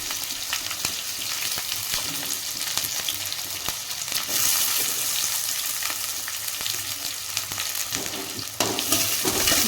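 Chopped onions fry in a pan while making fenugreek-leaf kadubu, giving a loud continuous sizzle close by, broken by frequent stirring scrapes and taps, with no talking.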